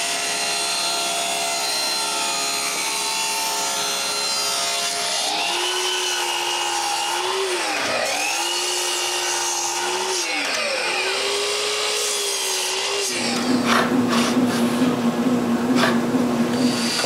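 A power saw cuts solid pine in a workshop, the motor whining steadily before the blade bites, dipping and rising in pitch through the cut, then a louder buzzing tone as it finishes, close and alone.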